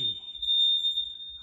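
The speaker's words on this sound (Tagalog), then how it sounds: "fire alarm test" Fire alarm test sounding indoors, a single piercing high electronic tone held steadily throughout, loud and close, with low room noise beneath.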